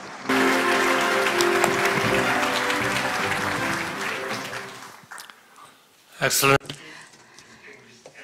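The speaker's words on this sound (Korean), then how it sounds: "큰 박수로 맞이해 주시기 바랍니다." At the opening ceremony of the AI Global Forum, an audience applauds to welcome Prime Minister Han Duck-soo to the stage. The clapping starts full, fades out after about five seconds, and is followed by a brief loud burst of sound.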